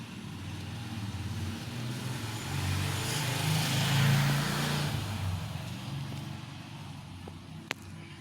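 A Mahindra Thar SUV climbs over ramp obstacles in a challenge course in Maharashtra. Its engine is faint and distant, swelling into a louder strain midway before settling back down.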